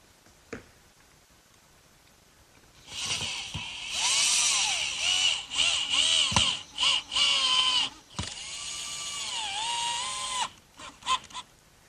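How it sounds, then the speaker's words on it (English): A power drill whines in several short bursts while boring pilot holes into hard oak for a workbench, the motor pitch rising and sagging under load, with brief pauses and clicks between holes. "on this oak, it's critical to cut pilot holes"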